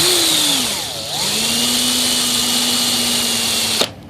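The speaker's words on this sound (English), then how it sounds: "so I can stick it in a drill and then hold a rag around it with the buffing" A power drill spins a silver half-dollar coin ring for buffing, giving a steady loud whirring motor drone whose pitch dips briefly, then holds level before stopping abruptly near the end.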